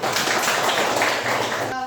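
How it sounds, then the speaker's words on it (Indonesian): A class claps hands together in a dense, steady burst of applause that fills the moment, ending abruptly. "Tepuk tangan semua."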